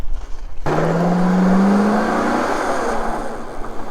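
A Crown Vic runs loud and close on a rough road, with a rising engine drone and steady road roar after a short burst of rumble.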